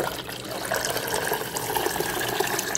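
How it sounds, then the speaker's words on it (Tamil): Water is poured into a pot of pepper rasam, a soft splashing trickle that runs steadily for a few seconds at close range, with no talking. "அதனுடைய தண்ணியை இதில் ஊற்றிக்கலாம்"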